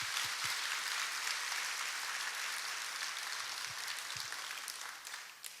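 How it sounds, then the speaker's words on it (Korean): Church congregation at an evening service clapping together, a steady, fairly faint wash of applause that gradually tapers off over several seconds, with a few low thumps underneath. "박수 한번 우리 한번."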